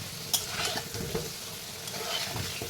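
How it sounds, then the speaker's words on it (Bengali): Continuous close sizzling of potatoes frying in a pan, with a few light scrapes and taps as they are stirred. "মোটামুটি আলুটা ভাজা হয়েছে, আর একটু ভাজবো, আর একটু লাল করবার"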